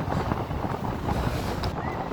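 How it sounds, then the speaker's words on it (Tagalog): Strong wind at the Baywalk in Calamba, Laguna, buffets the microphone in a constant broadband roar with gusty swells throughout, loud and unbroken. "Ang lakas ng hangin."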